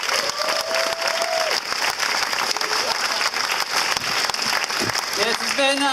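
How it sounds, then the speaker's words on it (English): A crowd at the National No Shark Cull Rally in Perth gives a sustained round of applause for the event's volunteers, dense outdoor clapping running the full length with a few voices and tonal sounds rising over it near the end. "a big round of applause for all the volunteers and people that have put this event on today"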